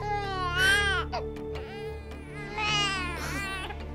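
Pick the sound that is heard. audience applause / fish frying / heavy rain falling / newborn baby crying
newborn baby crying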